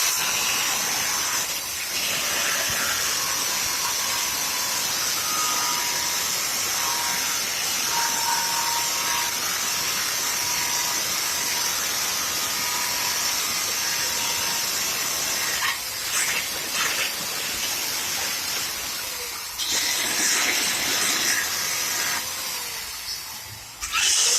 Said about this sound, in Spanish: vamos a taladrar, vamos a limpiar hasta sacar el color de nuestra madera